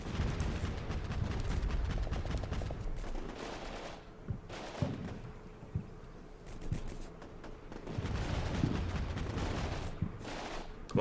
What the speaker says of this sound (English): Love those rifle grenades.